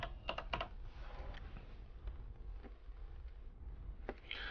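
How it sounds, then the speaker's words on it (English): Typing on a computer keyboard, with a few quick keystroke clicks at the start and scattered single taps afterward, close and soft over a faint background hiss. "I'm going to go straight for the owner and type in Rover."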